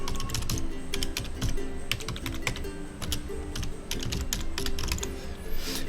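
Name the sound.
typing an email address on a computer keyboard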